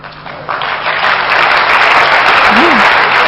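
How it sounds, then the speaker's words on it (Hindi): An audience in a class or competition session breaks into applause, starting softly and swelling within a second into sustained, dense clapping from many hands that holds steady to the end. "ताली भले बजाई"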